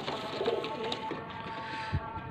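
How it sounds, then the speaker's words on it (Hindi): Pigeons coo softly in a breeding loft in Lahore: low, brief throaty coos under a busy background of handling noise and faint chatter. "ये ब्रीडर 2-3 जोड़े हैं, वो आउट क्लास के जोड़े हैं कबूतर"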